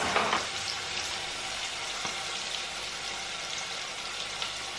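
Dried chilies and onions frying together in a pan, giving a steady, close sizzling hiss that runs unbroken throughout with no voices.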